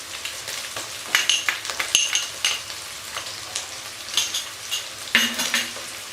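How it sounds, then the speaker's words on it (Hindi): Minced meat keema with ginger garlic paste being stirred in a pan for aloo keema, with steady sizzling and frying, scraping strokes of a spoon and light clinks of metal against the pan, no voices. "अब मैं इसको हिला दूँगी,"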